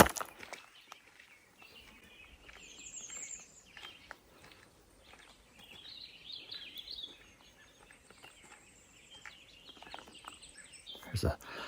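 Birdsong chirps and trills scattered through quiet woodland ambience along a forest trail of trees and ferns, several birds calling at a moderate distance with soft rustling between calls.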